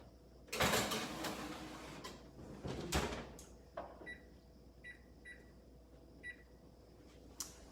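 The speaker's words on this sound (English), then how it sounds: "pop them right into the toaster oven" Toaster oven being loaded: door clunks and tray sliding, then a short run of electronic beeps as it is started, close and fairly quiet.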